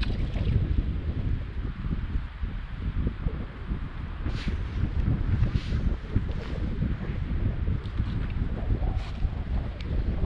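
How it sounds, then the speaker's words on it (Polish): Strong wind buffeting the microphone during float fishing on a river, a constant rough rumble with some water and splashing sounds, and no talking. "Wiatr na pewno nam nie ułatwia"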